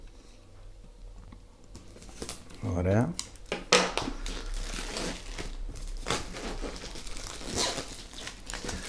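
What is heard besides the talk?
opening DJI Avata 2 drone packaging with scissors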